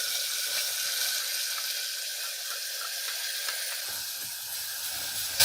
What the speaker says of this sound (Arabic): اول ما يبدأ كده ياخد لون هنزل بمعلقتين صلصة طماطم.